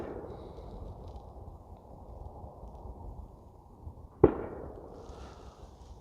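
A single sharp gunshot cracks at a distance over a low outdoor rumble, its echo trailing off briefly.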